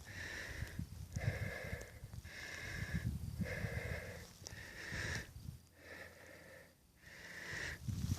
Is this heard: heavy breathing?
yes